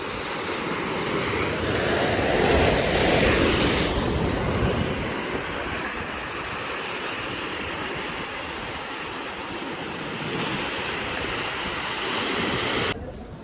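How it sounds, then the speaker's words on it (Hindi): Ocean waves breaking on the shore at Dona Paula Jetty in Goa during monsoon season, a continuous loud roar of surf with a swell around the start, wind buffeting the microphone. "ये लहरें हैं।"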